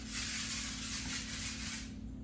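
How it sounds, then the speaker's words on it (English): Avocado oil cooking spray misted from a can over a kitchen sink, a steady hissing burst lasting about two seconds before it cuts off. "This is, again, a neutral flavor avocado oil spray"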